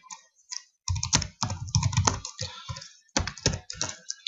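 Quick bursts of keystrokes clatter on a computer keyboard, near and crisp, in short irregular runs separated by brief pauses. No voices are heard.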